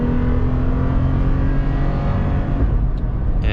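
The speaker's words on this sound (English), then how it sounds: "it makes a lot of noise and all this when you floor it" The 4-liter V6 of a 2022 or 2023 Toyota 4Runner roars as the pedal is floored, a steady loud and dense engine drone with strong low rumble that holds throughout without speech.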